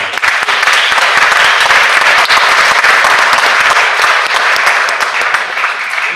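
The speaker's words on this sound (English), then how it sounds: "If you believe in God we trust, could you applaud him right now?" Applause from a gathering in a state Senate chamber during a floor session, dense and steady clapping filling the room for several seconds at close, loud level with no talk over it.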